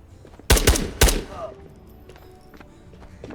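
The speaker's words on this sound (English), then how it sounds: "we're getting shot at from somewhere" Two sharp, loud gunshots about half a second apart ring out in the VR shooter game Ghosts of Tabor, each with a short echoing tail, followed by quieter distant pops and low background noise.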